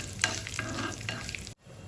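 Cashew nuts roasting in ghee for ven pongal, with a close, continuous sizzle and stirring scrapes that cut out abruptly near the end.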